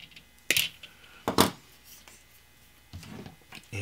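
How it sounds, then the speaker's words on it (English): Wire for an amplifier's binding post snipped by cutters, two sharp clicking snaps close by, followed by softer handling rustles, with no voices. "I need this much wire. So I'll just cut that"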